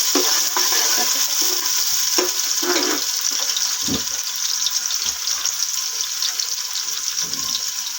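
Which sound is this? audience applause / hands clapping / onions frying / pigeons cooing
onions frying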